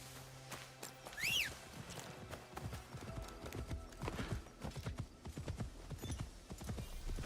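Galloping hooves drum rapidly and close as a horse runs in Assassin's Creed Shadows, following a brief whinny near the start, under quiet game background.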